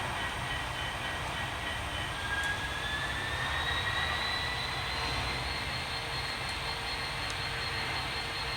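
A model train runs along freshly cleaned tracks, giving a steady, moderately loud rolling rumble that holds evenly throughout with a faint high whine above it and no talk.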